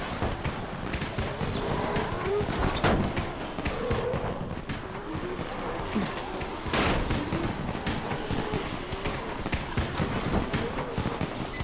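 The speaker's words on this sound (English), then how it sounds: "You still have some firecrackers, don't you? Just throw some into the crowd." Firecrackers pop and crackle in rapid irregular bursts in the zombie game Dying Light, a dense chaotic barrage layered with footsteps and commotion throughout.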